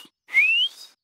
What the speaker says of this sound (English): It sounded like a whistle to me.